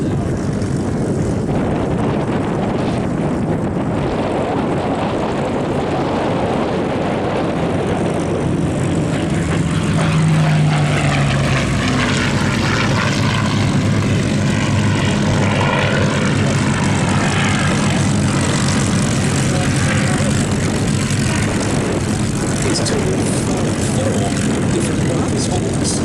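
A Curtiss P-40 fighter, flown in the Italian theatre by the 85th Fighter Squadron in 1944, makes its last low pass at an airshow; a loud propeller-engine roar swells and fades while a commentator talks over it.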